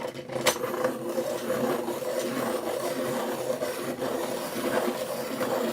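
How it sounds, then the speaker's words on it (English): A colouring pencil is sharpened with a steady, continuous wooden rasping and grinding, close and fairly loud, running without pause and with no talking. "I do need to sharpen this"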